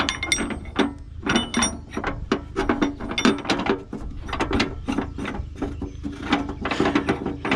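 Corn planter row markers being unlocked, a close series of rapid metallic clanks, ratcheting clicks and knocks in irregular bursts.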